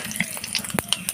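Panch phoron, chilli, sugar and bay leaf go into hot oil. The brief close frying shows sputtering pops and crackles over a light hiss, with no voices.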